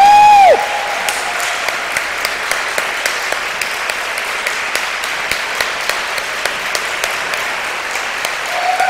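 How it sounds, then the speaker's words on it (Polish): Concert audience at a charity evening of Ukrainian songs breaks into sustained, even applause, loud and steady throughout after a brief sung note at the start, with occasional sharper individual claps. "Brawa nikt nie prześpiewa."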